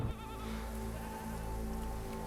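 A herd of about forty goats bleats outdoors, several wavering calls overlapping against a steady patter like rain or rustling in the background.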